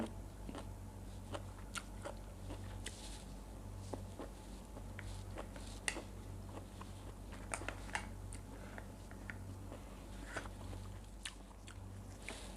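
Close, steady chewing and biting of grilled pork mask-cut miang wraps with fresh vegetables, with irregular crunchy bites over a low constant hum and no talking.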